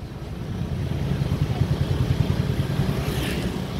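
A scooter rides through evening streets in Denpasar, Indonesia, its small engine giving a low, steady, pulsing drone up close with wind noise and no talk.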